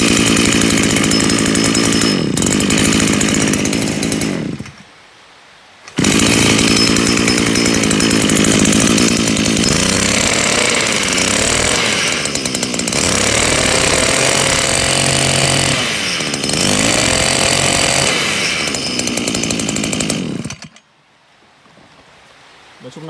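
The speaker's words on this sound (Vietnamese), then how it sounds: "nghe tiếng bô Maru này cực kỳ là hay" A Japanese Maru engine runs loud and close with a raspy, buzzing exhaust note, revving in long bursts separated by brief drops to near silence, with the pitch rising and falling between revs.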